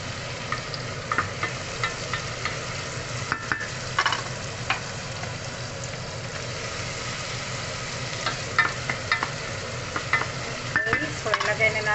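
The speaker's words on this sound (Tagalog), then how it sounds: "Yung ating onions, garlic, tapos ating beans, carrots." Onions, garlic, beans and carrots fry briefly in a pan, giving a steady sizzle broken by intermittent scraping and stirring clicks.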